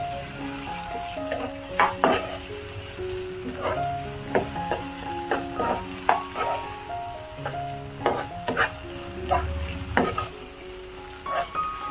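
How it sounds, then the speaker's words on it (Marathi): Ginger garlic paste stirred into masala rice with softened onion and tomato in a pan, giving repeated scraping and clinking strokes of the spoon against the pan over a low sizzle, close and fairly loud. "आता ह्याच्यामध्ये आहे ना मी आलं लसणाची पेस्ट ऍड करते, ते पण चांगलं मिक्स करून घेऊया।"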